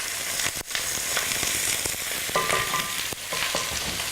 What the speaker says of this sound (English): So just let those sit there for a little bit, for a few minutes to cook away.